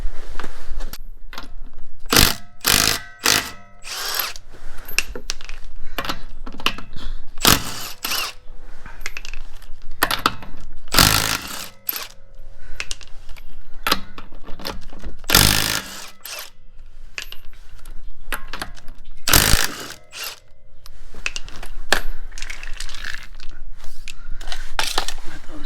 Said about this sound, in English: Alright, let's pull this wheel off.